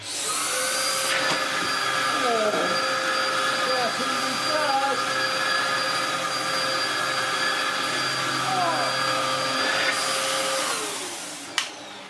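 A cordless Dyson vacuum cleaner runs on the floor with a loud, steady, high-pitched motor whine that holds for about ten seconds, then winds down, with a brief knock at the end.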